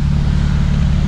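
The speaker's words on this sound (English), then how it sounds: "First little warm-up drift." A car drifting on street tyres during a warm-up run on a public road, giving a steady, loud engine drone with low rumble throughout, close to the microphone.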